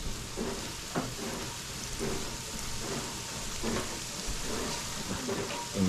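Mushrooms cooking in a pan give a steady, broad sizzle with faint stirring scrapes, close by and with no voices.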